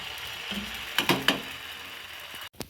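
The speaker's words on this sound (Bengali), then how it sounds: "দেখো এবার এরকম করে করে আমরা সব কটা পিঠে ভেজে দেবো" Kheer patishapta pitha fries quietly in a pan with a soft, steady sizzle, broken by a few brief clinks and scrapes near the end.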